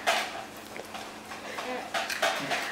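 A spoon clinks and scrapes against a dish as a young child named Chloe eats, a few light taps and scrapes near and close, with an adult voice talking over them.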